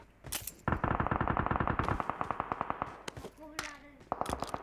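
Rapid automatic gunfire in the battle royale game PUBG Mobile, a fast burst of close, loud shots followed by slower spaced single shots, with a voice speaking over the firing.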